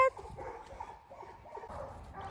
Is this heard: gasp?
no